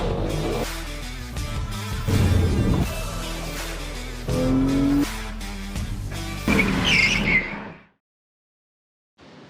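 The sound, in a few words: BMW M3 E92 V8 car driving, tires squealing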